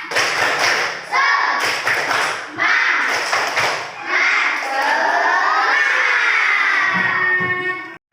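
A classroom of children performs a rhythmic clapping chant, with bursts of claps and thumps alternating with loud shouted, sung voices, all close and energetic.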